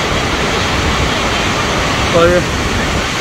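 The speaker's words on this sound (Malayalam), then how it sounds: "ഈ വെള്ളച്ചാട്ടം ഈ മൗണ്ടൻസിൽ കൂടെയാണ് വരുന്നത്." Bear Creek Falls in British Columbia roars down the mountainside, a loud, steady broadband rush of falling water heard close, with someone briefly speaking over it near the end.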